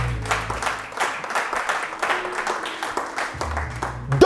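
A church congregation applauding during a pastor's sermon, steady rhythmic clapping from many hands at moderate volume, continuous for several seconds.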